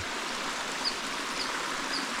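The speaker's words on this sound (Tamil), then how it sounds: "இந்த இடத்துல பாருங்கள் என்ன இருக்குன்னு தண்ணி அழகாக போயிட்டுருக்கா" A quiet, steady rush of flowing stream water at Vazhukkuparai, Salem, runs continuously with no voices.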